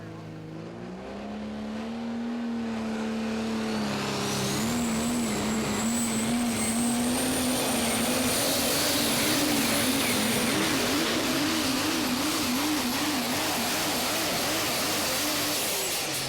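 A Cummins 6.7 liter six-cylinder diesel truck engine pulls hard in a sustained, loud, steady roar, its pitch climbing and then wavering as the load shifts, with a high whine rising above it.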